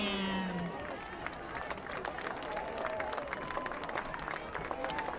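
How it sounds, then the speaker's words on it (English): Crowd applause for a high school marching band at a Dracut versus Whittier Tech football game, broad steady clapping and cheering from a large outdoor crowd lasting throughout, with a brief tone at the start. "applause for our marching band"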